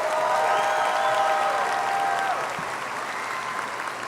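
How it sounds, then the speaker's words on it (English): Graduation ceremony crowd at Martin High School gives the students a big round of applause, dense and even clapping with a few cheers and whistles early, easing off slightly toward the end. "Let's give these students a big round of applause"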